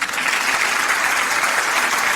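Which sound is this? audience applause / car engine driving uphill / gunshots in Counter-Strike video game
audience applause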